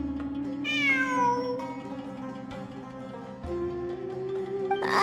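A cat meows in the video game Genshin Impact, a clear, close, drawn-out cry rising and falling over a sustained ambient game music bed, with a second softer call near the end.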